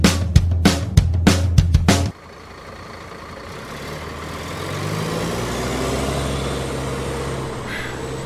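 Several sharp knocks open the clip, then a bus's heavy engine rumbles steadily and slowly pulls away, its drone lingering at moderate distance.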